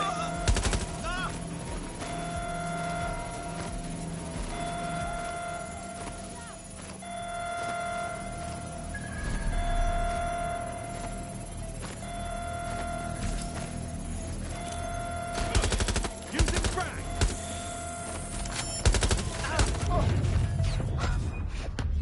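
Gunfire from a shooting suspect in Watch Dogs Legion, scattered shots and short bursts mixed with game music and tones, fairly faint and intermittent, growing sharper near the end.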